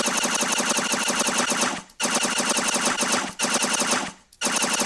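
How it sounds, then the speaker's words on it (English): Gunshot sound effect in a shooter game under development fires in rapid machine-gun-like bursts, dense and loud, broken by two brief pauses between volleys. "we're also going to play the shot sound"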